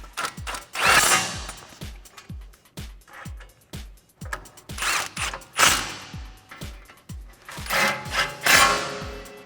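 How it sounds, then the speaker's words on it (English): An 8mm socket on a ratchet tightens a bolt while installing a leveling lift kit on a 2009-2020 Ford F150, giving rapid repeated ratchet-pawl clicks in quick bursts up close, with short pauses between the runs of clicking. "Now with your 8mm socket, go ahead and tighten it down."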